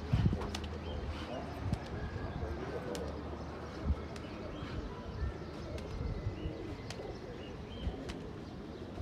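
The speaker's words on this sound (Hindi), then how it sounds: "कबूतर आ रहे" Pigeons coo softly outdoors at a pigeon-keeping rooftop in Lucknow, with low repeated calls over a busy, rustling background and occasional thumps and wing sounds.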